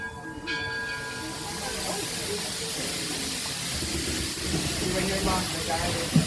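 Steam locomotive of the Greenfield Village Railroad, a steady broad hiss of venting steam with faint whistle-like tones early on, continuous and fairly close for several seconds.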